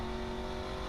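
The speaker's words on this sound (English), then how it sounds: "We accelerate again, and we don't want the car to slow down." Endurance race car on the Magny-Cours circuit accelerating hard, a loud, continuous engine drone with steady tonal whine and no talk over it.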